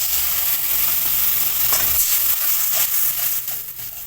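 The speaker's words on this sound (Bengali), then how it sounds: "মশলাটা পুড়ে না যায় এবার একটু জল দিয়ে দেবো।" Water poured into frying ground coriander and chili powder for cauliflower chops hits the hot pan, giving a loud, steady sizzle with steam hiss that stays close and fills the whole clip, easing slightly at the end.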